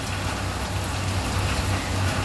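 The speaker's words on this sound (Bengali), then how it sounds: "প্রচণ্ড বৃষ্টি।" Heavy rain pours steadily in an outdoor setting near a Swaminarayan temple, a dense, even hiss of falling water with a faint low hum beneath, continuous throughout and without talk.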